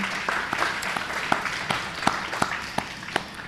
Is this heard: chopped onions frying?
no